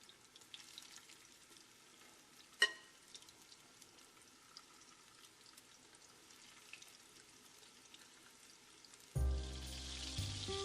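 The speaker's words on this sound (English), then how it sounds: "As the meatballs are browning on all sides" Meatballs brown in hot oil in a pan for Italian wedding soup, a soft steady sizzle with one sharp clatter partway through and a louder burst of frying near the end, no speech.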